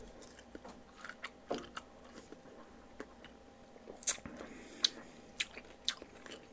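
Someone close by chews pineapple, with soft wet bites and crunchy squishes in an uneven rhythm and a few sharper clicks, quiet and with no talking.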